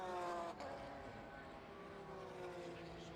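A Porsche race car roars past during a one-hour New Zealand Endurance Championship race, a loud, steady engine drone with a brief surge at the start and other cars blending in.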